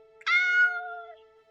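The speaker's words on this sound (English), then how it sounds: "Suddenly, he hears a familiar meow." A single clear cat meow, drawn out and tonal and sliding slightly downward, close and alone over a faint steady hum.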